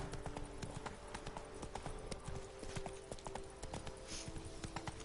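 Horse hooves clip-clopping at a steady walking rhythm in The Witcher 3, a continuous even trot of hoofbeats over a low game ambience, with no one talking.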